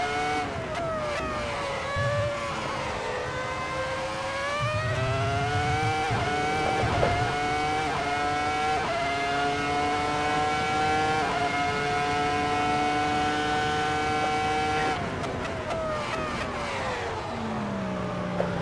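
Ferrari F2004 Formula 1 engine at the Nürburgring in the Assetto Corsa video game, a loud high-pitched screaming V10 climbing steadily through gears with sharp shift breaks, close and continuous with no talking.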